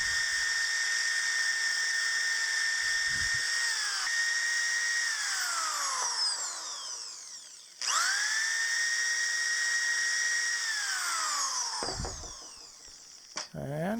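A power drill bores out an epoxy-filled worn bolt hole, its high whine running in long steady bursts and sagging in pitch under load before stopping briefly and spinning up again, close and loud with no talk.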